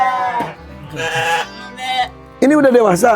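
Sheep bleat loudly and close by in a livestock pen, several wavering calls in a row, with someone speaking between them.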